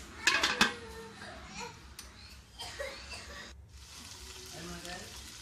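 Tuna carbonara sauce cooking in a pan, with soft sizzling and stirring scrapes, a few sharp clinks near the start, and quiet background voices.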